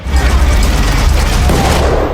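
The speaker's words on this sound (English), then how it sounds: "Gunfire echoed through the night sky." Loud, dense gunfire fills a night battle scene, a continuous rough burst of rapid shots and booms with no pauses and no voices.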